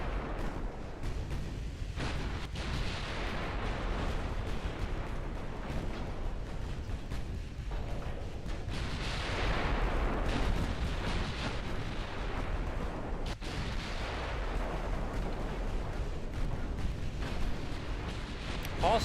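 Heavy 12.1-inch battleship guns boom in a naval war video game, their deep blasts rolling into a dense, sustained roar of gunfire and explosions with no clear pauses.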